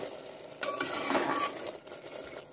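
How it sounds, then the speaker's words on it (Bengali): Mutton keema with potatoes stirred in a pan as its liquid cooks off, a spoon scraping and clinking against the pan over a soft sizzle, close and moderate. "দেখুন আমি এইভাবে যতটুকু জল আছে তাকে শুকিয়ে নেব"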